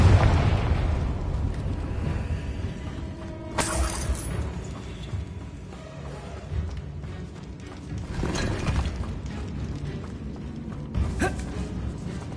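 A Confringo explosion spell bursts in Hogwarts Legacy, a heavy boom at the start trailing into creaking, rumbling debris, with a few sharper crackling hits later on.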